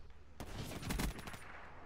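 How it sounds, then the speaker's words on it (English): A short, fairly faint burst of rapid automatic gunfire in the video game Black Ops 3, a dense rattle lasting about a second. "Who's shooting at me?"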